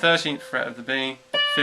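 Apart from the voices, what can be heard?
No distinct noise like a dog, phone or traffic.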